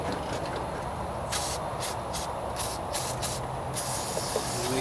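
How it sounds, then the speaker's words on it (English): White lithium grease sprayed onto a lawn mower's steering and throttle linkages: a run of short, close hissing aerosol bursts in quick succession over a steady low background hum. "I'm about to spray some lithium just to lubricate the linkages and the steering"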